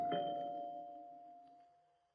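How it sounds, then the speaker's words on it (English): A doorbell rings once in an old-time radio detective drama, a single clear chime with a long ringing tone that slowly fades, heard alone without talk. "I don't think that doorbell took the first time."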